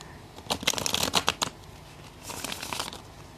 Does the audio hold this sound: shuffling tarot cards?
yes